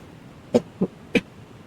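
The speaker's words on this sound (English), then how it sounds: "Sorry for coughing." Three short, soft coughs in quick succession, close by in an otherwise quiet space.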